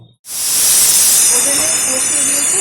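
A pressure cooker holding soybean curry cooked with goat fat vents steam through its whistle, a loud, steady hiss that bursts in after a brief silence and carries on with faint whistling tones underneath.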